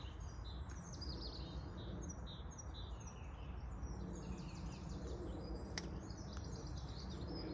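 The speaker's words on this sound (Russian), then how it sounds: "Слышите, как птички поют?" Small birds chirp and twitter in an English garden on a quiet early spring morning, faint and distant, with scattered short calls repeating over a soft outdoor hush.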